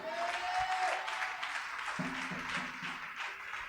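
A church congregation claps and cheers, a broad wash of many hands that is fullest at first and then thins and tapers off, with a voice rising briefly beneath it.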